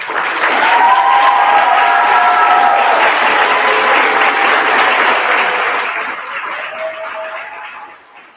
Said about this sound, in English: So big applause.